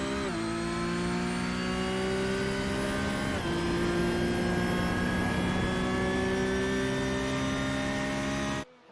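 A Porsche Cup race car in a simulated race at Laguna Seca, its engine a loud, steady high-pitched whine that climbs gradually, with one brief gear-change dip and an abrupt cutoff at the end.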